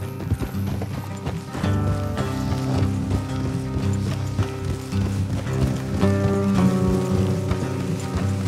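Horses gallop in the video game Red Dead Redemption 2, hooves clip-clopping in a rapid, busy rhythm over a background music bed, loud and steady throughout.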